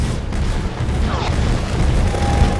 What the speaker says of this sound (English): I'm hearing explosions